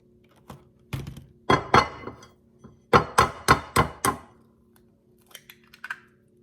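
Two large eggs cracked for French toast, a run of sharp knocks and taps on a hard edge with short bursts of crackle, several close together, loud and near with no talk.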